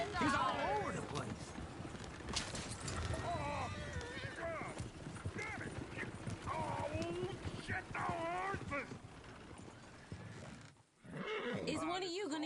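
Horse sounds from the video game Red Dead Redemption 2, with whinnies and clip-clopping hooves running through a busy, loud scene and people talking over them.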